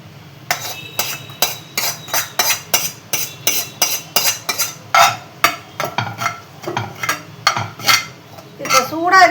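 Jaggery syrup being mixed into steamed poha in a metal vessel, a steady series of close scraping and clinking spoon strokes against the pot, rhythmic and fairly loud, with no talk.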